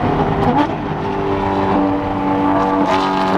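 A Lamborghini Aventador with a loud exhaust drones steadily and close by for the whole stretch, its engine note holding a sustained pitch with a couple of brief revving rises and shifts.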